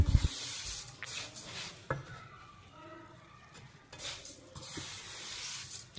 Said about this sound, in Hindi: चीनी डाल के तो इसको अच्छे से मिक्स कर लें